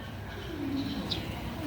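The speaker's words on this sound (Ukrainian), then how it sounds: "Десь пташки співають." Faint bird calls, including a soft cooing and a short chirp, rise over a quiet outdoor background with no talking.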